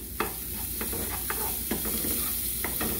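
Chopped onion fries in butter for a beef lasagna, with a constant sizzle broken by several sharp spoon taps and stirring scrapes close by. No one is talking.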